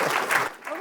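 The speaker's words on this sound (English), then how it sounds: "Please give them a round of applause again" A short burst of audience applause at a mobile gaming conference, close and fairly loud, fading briefly before picking back up.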